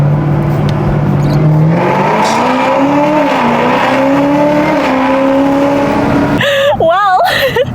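A 750 wheel-horsepower Camaro ZL1 engine roars loudly while driving, its steady drone rising and falling in pitch as it pulls, then breaks off abruptly near the end into a wavering, distorted whine.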